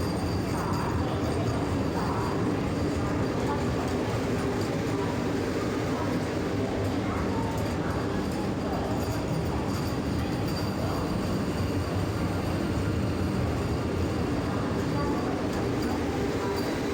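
A train rolls into an Indian Railways station on the Puri–Tirupati route, giving a continuous loud rumble and rattle of railcars with crowd noise and voices blended underneath.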